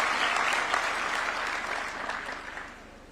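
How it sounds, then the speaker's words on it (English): Audience applause at a presidential award ceremony: a sustained burst of many hands clapping indoors, fairly loud at first and gradually fading over a few seconds. "A round of applause for her."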